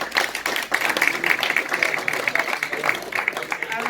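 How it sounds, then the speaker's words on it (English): A lively round of applause for an amateur football club's team at an end-of-season awards night, dense indoor clapping close by with scattered voices underneath. "So a round of applause for the boys."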